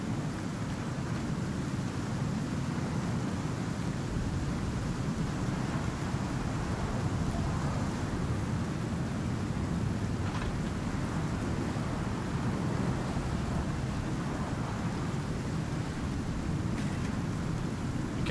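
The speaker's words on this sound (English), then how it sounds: "Oh, it's so stormy." Steady, loud rain hiss from a storm in the survival game Icarus runs throughout, with faint low rumbles of thunder underneath and no talk.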